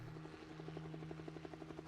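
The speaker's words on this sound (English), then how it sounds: "She could hear a helicopter." A helicopter drones steadily with a rapid rhythmic rotor thump, fairly faint and even throughout, heard alone as a sound effect in a dramatized reading.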